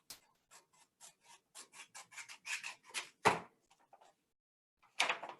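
Scissors trim a piece of paper for a simple craft square, giving a close, quiet series of short snipping and rustling cuts in an accelerating rhythm, followed by a louder paper crinkle and a final rustle.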